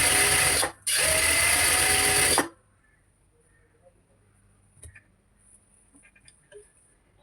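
A sewing machine stitching the bottom hem of cigarette-style pants runs in a loud close burst, pauses briefly, runs again, then stops, leaving faint handling clicks and rustles.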